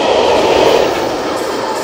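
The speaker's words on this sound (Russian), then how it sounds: "Сейчас поезд пройдет," A train rushes past nearby on a German rail line in a steady, loud roar of wheels and rolling stock that fades only slightly over the short span.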